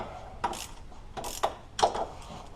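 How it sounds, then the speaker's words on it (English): A wrench works bolts loose on an engine mount bracket of a Ford Focus, giving three short, separate metallic ratcheting clicks close to the mic against a quiet background. "Alright, we're going to try to get these bolts loose here."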